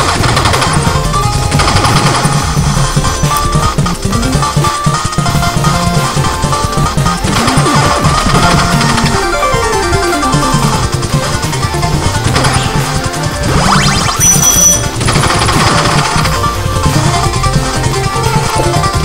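Video game gunfire fired upward from below plays as loud, continuous rapid bursts and blasts layered with game music and crashing effects, dense and unbroken throughout.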